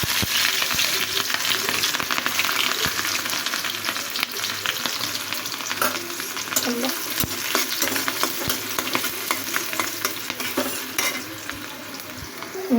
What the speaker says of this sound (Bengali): এখানে আমি পেঁয়াজ আর কাঁচামরিচটা আগে দিয়ে নেব।